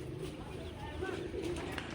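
Pigeons coo softly at a rooftop loft, a few low murmuring calls repeating over faint background noise.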